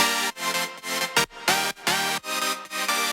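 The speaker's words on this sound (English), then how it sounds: "So this one is a pretty detuned saw." A heavily detuned saw synth preset pitched up an octave plays loud, buzzy, wide chords in a gated, pulsing rhythm of short stabs and brief gaps, part of an EDM remix, with no talking over it.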